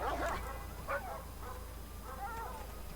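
A pitbull in a video game yelps and whimpers in short bursts, faint against a steady background hum.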